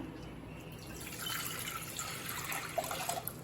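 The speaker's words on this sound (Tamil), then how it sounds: "இப்போ தேவையான அளவு தண்ணி சேர்த்துக்கலாம்." Water poured into a cooking pan while making a baby corn fry, a steady liquid trickle and splash running close and moderately loud throughout, with a few small drips near the end.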